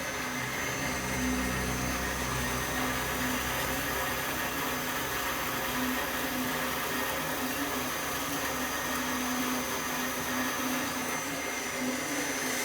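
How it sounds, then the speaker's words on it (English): A dry saw cuts metal with a constant loud mechanical whine and hum, steady and unbroken throughout. "since this guy is a dry saw, I typically use cutting wax to aid in my cutting"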